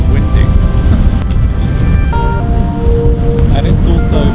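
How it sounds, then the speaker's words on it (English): Strong wind buffeting the microphone by the sea at Djurgarden, a loud continuous rumble with faint water and boat engine tones underneath. "it's very fucking windy"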